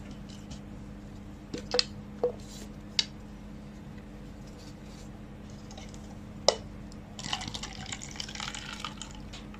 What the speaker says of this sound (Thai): ก่อนอื่นเทน้ำออกก่อน